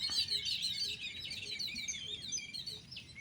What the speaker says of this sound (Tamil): எங்கண்ணா ஏன் குருவிலாம் கத்துறானுங்க?